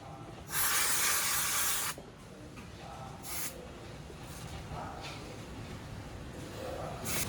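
A dust remover spray fires during lens bonding and display assembly of a V901 Pro device: one loud, close hiss of over a second, then several shorter, fainter puffs.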